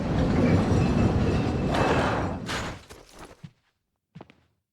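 A rail cart in the Resident Evil 4 (2005) castle rolls along its track with a loud rumbling, clattering run that fades out, followed by a few sharp mechanical clanks and a brief silence.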